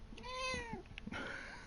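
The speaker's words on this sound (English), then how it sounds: "Hello again, kitty." A cat in the video game Hogwarts Legacy gives a clear, drawn-out meow followed by a shorter second call, fairly quiet and heard on its own.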